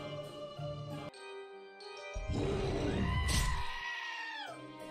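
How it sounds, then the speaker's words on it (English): Cartoonish scream from a character in a Roblox werewolf game, a rising shrill wail that swells loudly midway and then bends downward over busy game music and effects. "That scream is funny."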